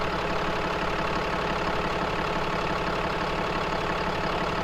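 A Cummins diesel engine idles steadily near a grill, giving a loud, constant low rumble with a faint knocking texture and no pauses or changes in pace, heard alone without speech.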